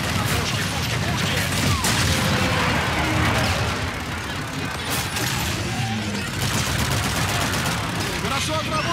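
Sustained rapid bursts of gunfire and explosions crackle loudly throughout, dense and chaotic like a battle, with no clear pauses, from the video game Call of Duty: Infinite Warfare.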